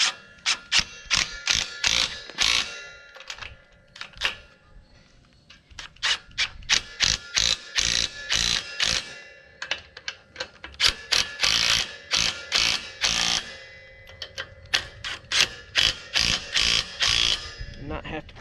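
Lock nuts being tightened on a Land Pride Arena Drag with a ratchet wrench: bursts of rapid, close, crisp clicking repeat across the span, separated by short pauses.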